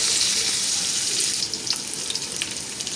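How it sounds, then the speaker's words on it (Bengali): Cinnamon, cardamom and cloves fry lightly in oil for morog polao, a steady close sizzle with small popping crackles toward the end. "এরপর এগুলোকে হালকা করে ভেজে নেব"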